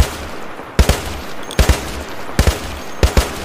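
ACR assault rifle fire in the Minecraft Decimation mod, heard as four short bursts of two sharp, loud gunshots each, spaced evenly apart over a low background hum.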